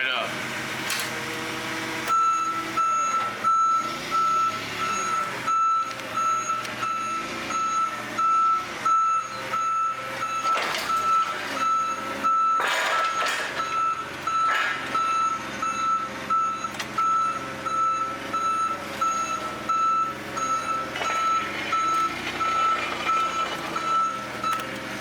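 A running forklift's reversing alarm beeps steadily and rapidly over a low engine hum, close and sustained for the whole stretch.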